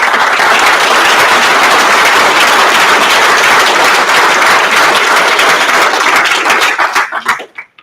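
Loud, dense applause from a large audience at a summit gathering, sustained steadily for several seconds before tapering off into scattered final claps.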